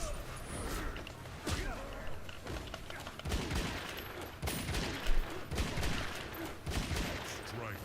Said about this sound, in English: just some gunshot spam to end it